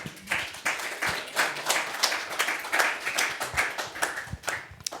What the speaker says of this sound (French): on va applaudir Franck et Frédéric.